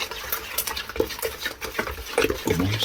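Whisk stirring batter in a bowl, quick irregular scraping and tapping strokes close up, with no talk.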